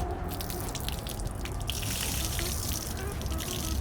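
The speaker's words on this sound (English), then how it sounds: "wring it out on the ground" Water wrung out of a car wash mitt splashes and drips onto the ground outdoors during soft-top cleaning on a Ferrari F355 Spider, a close continuous splatter and trickle lasting a few seconds.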